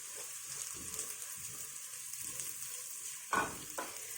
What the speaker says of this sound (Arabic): انا هقلب لحد العدس ما يغير لون